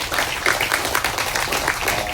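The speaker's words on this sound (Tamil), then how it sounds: "அந்த நேரத்தில் நல்ல பலத்த கரகோஷம் கொடுங்க அவங்களுக்கு" A short burst of crowd applause at a Tamil film event, brisk clapping from many hands at moderate volume.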